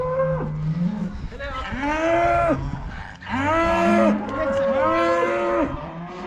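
Cows in a barn pen mooing loudly and close, several long drawn-out calls that overlap and follow one another, with faint barn noise beneath.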